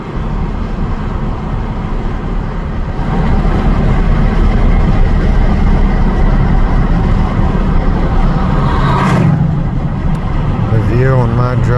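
A car driving along a frozen road gives off a continuous broad wash of engine and tyre noise that swells slightly after a few seconds, with faint tonal sounds creeping in near the end.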